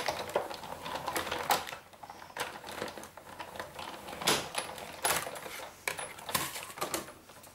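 A manual craft die-cutting machine rolls material through, producing a series of irregular clicks, clacks and ratcheting taps at close range with short pauses between bursts.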